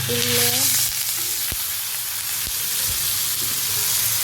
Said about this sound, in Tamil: மீன் ஃப்ரை வந்து ரெடி ஆகிட்டு இருக்கு